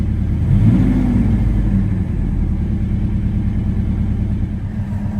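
A Chevy S10 engine revs briefly as the throttle is pressed, a deep rising rumble near the microphone that settles back into a steady low idle.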